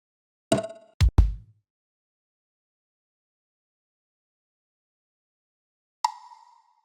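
A punchy percussion hit sample sounds several times: a few hard, dry hits in quick succession early on, then after a long silence one short, tonal hit.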